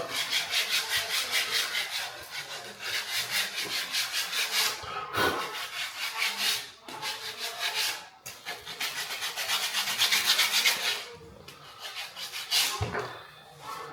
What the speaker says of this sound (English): What I'll do, I'll just pretty it up with the sandpaper.